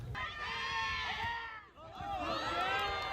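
Crowd of student spectators cheering and shouting at a basketball game on an outdoor court in front of a student union building, a dense, sustained roar with a brief dip midway before swelling again.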